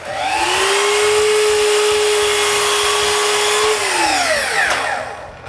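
An electric saw cutting wood in a workshop under construction, a loud, steady motor whine held for several seconds before the pitch sinks as the blade spins down, no voices.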